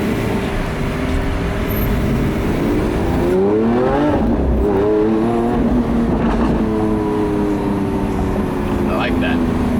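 A Lamborghini Aventador engine revs loudly up close, its pitch sweeping upward and then settling into a sustained roar, with people talking over it.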